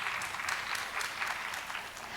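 A seated audience claps steadily for a couple of seconds at a finance AI conference in Korea, a dense, even patter of many hands, fairly faint and with no voices over it.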